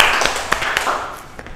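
A classroom gives a short burst of scattered clapping for a student, a few quick uneven claps, fairly faint and brief.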